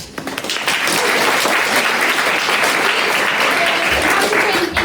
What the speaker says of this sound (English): Please give a big round of applause to Guy Jarvis.